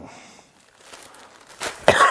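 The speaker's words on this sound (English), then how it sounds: "Got a cough." A short burst of coughing near the end, sharp and close, after a quiet stretch with faint background noise.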